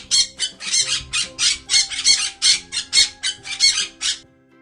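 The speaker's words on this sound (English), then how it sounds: "P. P is for" A parrot squawks repeatedly in a fast, harsh series of about a dozen loud, close calls, each burst short and raspy, ending abruptly with no talking.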